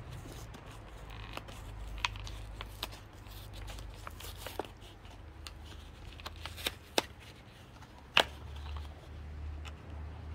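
Packaging of a Fast & Furious premium Hot Wheels five-pack of die-cast cars being opened, with close crinkling plastic, scattered sharp clicks and snaps, and one louder crack near the end over a low background hum.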